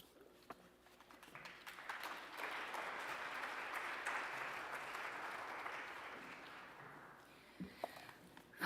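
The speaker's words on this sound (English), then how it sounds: "Another round of applause for everyone." At an outdoor Walk for Freedom event in Los Angeles, a crowd applauds, the clapping swelling after a second and holding steady for several seconds before fading into a few scattered claps and light bumps near the microphone.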